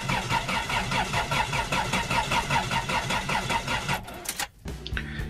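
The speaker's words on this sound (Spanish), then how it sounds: "el motor gira pero el auto no arranca" A car engine cranking without starting: the starter turns the engine over in a fast, steady, rhythmic whirring churn for about four seconds, then cuts off abruptly, leaving a brief click and quiet.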